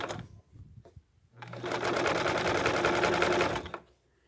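A sewing machine stitches a rope bowl wrapped in sari silk ribbon, starting after a quiet moment with a few soft clicks, then running in one loud, steady burst for about two seconds before stopping.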